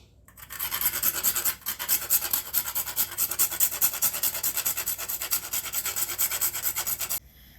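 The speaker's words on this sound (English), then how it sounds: "freshly grated nutmegs. And I'm going to grate in about a teaspoon or so in here." Fresh whole nutmeg is grated by hand into a bowl for a coconut roll filling. It makes a close, continuous rasping scrape of quick back-and-forth strokes that runs for several seconds, then stops.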